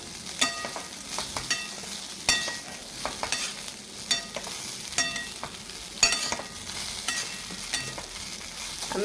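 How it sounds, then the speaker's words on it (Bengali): Flattened rice is stirred in a pan over a low sizzle, with repeated scraping and clacking strokes of a spoon against the pan at an uneven rhythm, heard close and without any talk. "চিড়ে দেওয়া হয়ে গেছে আমি এবার এটাকে ভালোভাবে মিক্স করে নেব"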